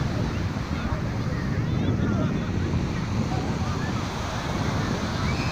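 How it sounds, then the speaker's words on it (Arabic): Summer sea waves wash onto a beach in Tangier, Morocco, as a steady broadband surf roar with heavy wind buffeting on the microphone throughout. "ما أحلى البحر في أيام الصيف."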